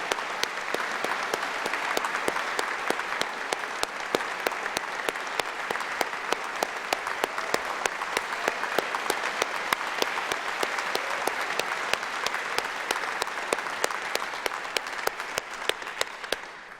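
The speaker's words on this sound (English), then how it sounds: "Let's have another round of applause" Long, even applause from the audience at a piano awards gala finals, a thick, sustained roar of countless clapping hands in a large hall that holds steady throughout before easing slightly at the end.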